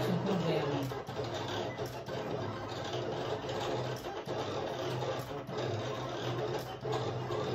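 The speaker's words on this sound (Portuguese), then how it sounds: "A máquina corta. Ela corta." A cutting machine working on designs for printed shirts runs with a steady, moderately loud mechanical whir and hum, with small periodic clicks and dips.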